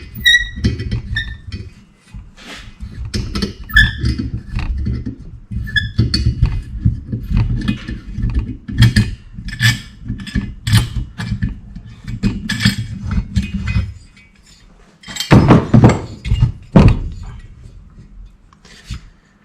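Metal tools clinking and rasping against a motorcycle cylinder head as a valve spring compressor is released on a Yamaha XS650 engine rebuild, with a steady run of small scraping, clicking contacts and a few louder clanks near the end.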